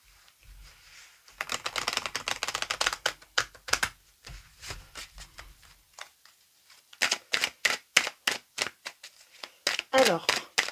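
A deck of oracle cards is shuffled and cut, producing bursts of rapid papery riffling and snapping taps, loud and close, with French speech in between the card sounds.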